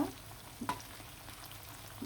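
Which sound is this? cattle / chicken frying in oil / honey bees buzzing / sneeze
chicken frying in oil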